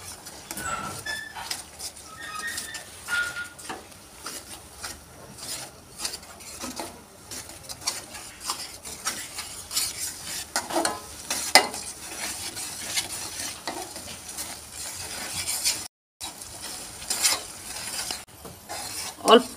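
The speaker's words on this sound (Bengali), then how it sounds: "আদা রসুনটাকে একটু ভালো করে তেলের উপর কষিয়ে নিচ্ছি।" Ginger and garlic paste stir-fried in oil for a Puran Dhaka-style beef tehari, with soft sizzling under repeated scraping spoon strokes against the pan, steady and close, no voices.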